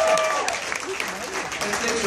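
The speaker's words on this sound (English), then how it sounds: "So give yourselves a round of applause." Comedy club audience breaks into applause, a dense close patter of clapping from a modest crowd with a few whoops, while the comedian's voice carries over it.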